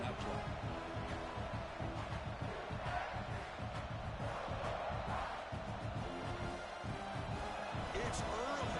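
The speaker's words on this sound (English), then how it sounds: "this crowd is fired up. Listen to this noise here." A dense, roaring stadium crowd from the video game College Football 26 cheers continuously at a South Carolina versus USC game, with a commentator's voice talking over the din.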